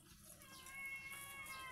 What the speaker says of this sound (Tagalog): Yung mga alaga din ako mga pusa guys.